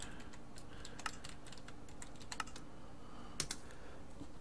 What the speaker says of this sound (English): So let's type in big reactor